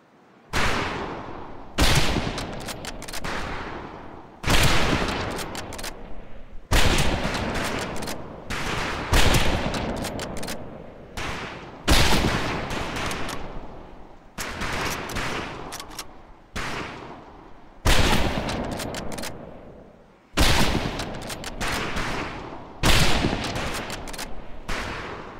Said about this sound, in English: Ready on the right. Ready on the left. Stand by, targets. Fire!